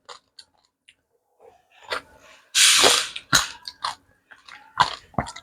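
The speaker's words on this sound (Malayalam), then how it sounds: "എനിക്ക് ഭയങ്കര ഇഷ്ടമാണ് കടിച്ചു പൊടിച്ച് കഴിക്കാൻ" Close crunching and chewing of hybrid passion fruit seeds, a handful of sharp bites with a louder burst of crunching midway, separated by quiet pauses and breathing.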